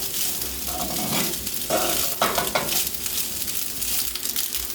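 Kimchi fried rice with sesame oil stirred in a hot pan, a dense, steady sizzle overlaid with several scraping strokes of a utensil across the rice and pan.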